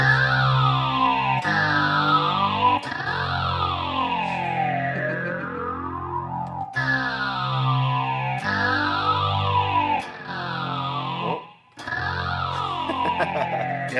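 A Meris Enzo X synth pedal running its twin sweeps preset in stereo, with repeated notes whose filtered tones sweep downward in wavy, chorus-like arcs, each note cutting in sharply and then smearing with echo, loud and alone with no talk.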